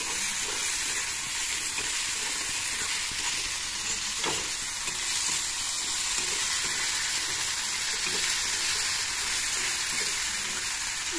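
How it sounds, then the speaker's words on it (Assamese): Swamp eel pieces fry with ginger and garlic in hot oil, giving a steady, loud sizzle throughout with faint stirring clicks and no talk. "এনেকৈ ভাজি মাছখিনি আদা আৰু নহৰু কেঁচা কেঁচা গোন্ধটো অলপ যাবলৈ দি এইখিনি ভাজি"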